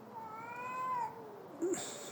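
Two cats fighting, one very large, yowl at each other, a long rising and falling drawn-out wail followed by a short sharp growling cry, close by.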